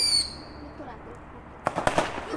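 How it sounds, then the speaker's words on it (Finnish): Fireworks pop several times in quick succession, distant sharp bursts that crackle after a faint whistle, heard outdoors in a quiet night setting during 2025 celebrations. "Te näitte, että tuossa oli tosi hieno ilotulite"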